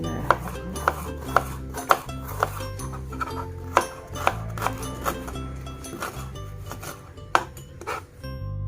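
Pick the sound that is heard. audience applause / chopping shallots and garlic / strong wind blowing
chopping shallots and garlic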